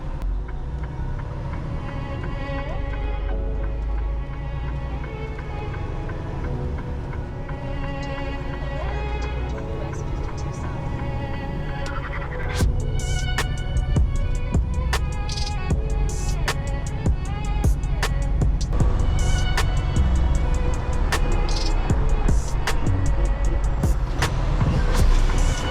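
A semi truck cruising down the highway, a steady droning engine and road rumble heard from inside the cab, growing somewhat louder and busier with rattling clicks in the second half, no talking.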